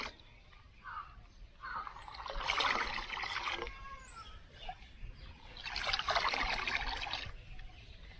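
Water trickles and pours as liver tonic and vitamins are mixed into a container of drinking water for chickens, two close bursts of splashing pouring separated by quieter dribbling, with faint bird sounds behind.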